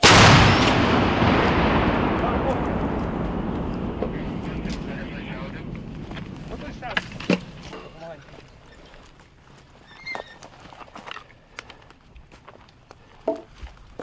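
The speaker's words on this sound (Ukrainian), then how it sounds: "Гармата! Постріл!" A single heavy blast from a D-30 howitzer booms at the start, its roar slowly decaying over several seconds in the Serebryansky forest, followed by scattered small knocks and clicks.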